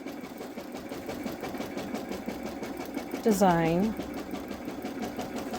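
A Babylock Solaris embroidery machine stitches a tack-down line for an appliqué bow on a sweatshirt, a steady, rapid mechanical whir running throughout while a voice briefly speaks over it.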